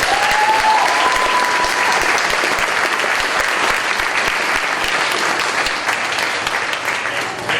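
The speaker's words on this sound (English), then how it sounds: "One more round of applause." A school senior awards ceremony audience gives a loud, dense round of applause that holds steady for the full stretch, a thick wash of many hands clapping together.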